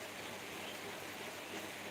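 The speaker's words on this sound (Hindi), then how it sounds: "इधर तो बारिश हो रहा है।" Steady rain falls continuously as a faint, even hiss with no talk over it.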